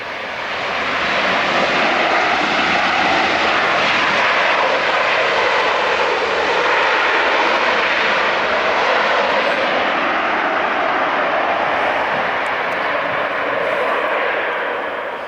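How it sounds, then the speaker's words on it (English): Jet airliner at LAX takes off at full throttle, a loud sustained roar that swells in over the first second, holds for a long stretch, then slowly eases as it moves away, with no voices. "you're full throttle, and then you pop the brakes and you jet down the runway"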